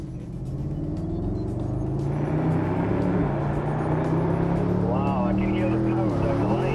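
A Mercedes AMG SLS Roadster on a test track gives a sustained, rising engine drone that builds over the first seconds and holds loud and close, with wind rumble and a voice talking briefly near the end.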